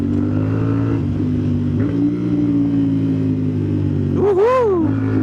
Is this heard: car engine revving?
yes